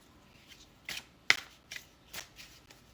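Tarot cards shuffled by hand, giving several short, crisp riffling bursts spaced about half a second apart, close and fairly quiet, with one sharper snap in the middle.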